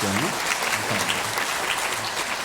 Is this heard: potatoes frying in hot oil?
no